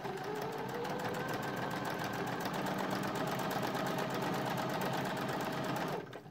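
A sewing machine stitches through layers of a carrot bunny costume, a fast, even mechanical whirring heard close and alone, stopping abruptly near the end.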